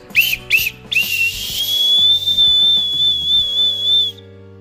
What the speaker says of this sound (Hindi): इसके अंदर निकले हमारी एक सीटी ये देखो कितनी ज़्यादा अमेजिंग डिज़ाइन है ऑरेंज और ब्लू कलर है इसको गाइज बजा के देखते हैं